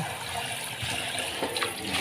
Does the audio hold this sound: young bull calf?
no